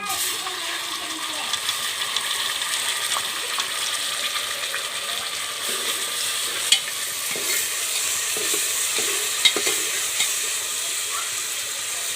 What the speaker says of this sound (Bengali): আমি এখন মেশিনে বেটে রাখা মশলাগুলো দিয়ে দেব।